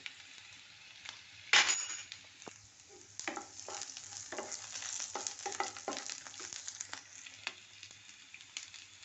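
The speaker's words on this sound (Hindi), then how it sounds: "लहसुन डालने के साथ साथ 1 टीस्पून ज़ीरा रखा था वो डालेंगे।" Garlic and cumin seeds frying in hot oil, later joined by pumpkin peel, with a steady close sizzle, a sharp burst as things drop in, then scraping and clinking stirring strokes.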